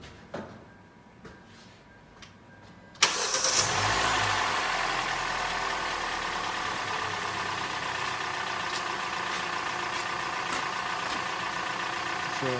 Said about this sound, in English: So now I'm gonna start the car and ask someone to rev it to 1000